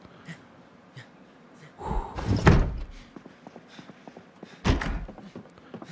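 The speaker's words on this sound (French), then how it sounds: "Referme la porte" A door in Project Zomboid swings shut with a solid thud, followed by a second heavier knock a few seconds later over a quiet, rustling background.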